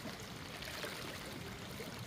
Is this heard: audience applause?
no